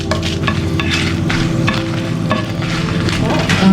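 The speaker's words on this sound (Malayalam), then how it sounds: "അതിലേക്ക് ഒരു 8 വറ്റൽമുളക് ഇതിലേക്ക് ഇട്ട് കൊടുത്തിട്ട് ഇതിനെ നമുക്ക് വറുത്തെടുക്കണം" Loud, continuous sizzling of eight dried red chillies frying in hot oil for chicken ghee roast, with occasional scraping and stirring clinks over the bubbling.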